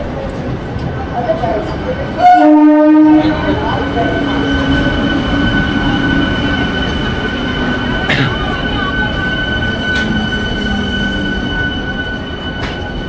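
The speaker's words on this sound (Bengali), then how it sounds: "4 নম্বর প্ল্যাটফর্মেই কিন্তু ট্রেন আসবে" A passenger train arrives at platform 4 of Balichak station: a loud horn blast early on, then a continuous heavy rumble with thin high wheel squeal, and people talking on the platform.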